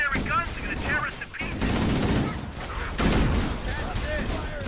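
Gunfire in a Halo video game battle against Covenant grunts on stationary guns, with rapid bursts of shots and blasts running almost continuously, loud and close, as a voice speaks over the fighting.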